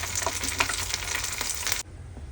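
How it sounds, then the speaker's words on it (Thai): Battered holy basil leaves frying in hot oil, a dense steady sizzle and crackle with small pops, close and loud, ending abruptly. "และใบกะเพราก็เอามาชุบแป้งทอดเช่นกันนะคะ เราก็จะได้ใบกะเพราแบบกรอบ"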